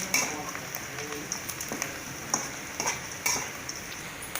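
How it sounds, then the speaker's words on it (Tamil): Onions frying in a pan for cabbage fry, with a soft steady sizzle broken by repeated scraping and clinking stirs of a spoon against the pan, close and moderately quiet, no talking. "வெங்காயம் நல்லா வணங்கிடுச்சு."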